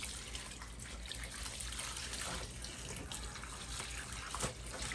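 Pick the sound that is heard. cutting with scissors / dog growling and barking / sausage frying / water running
water running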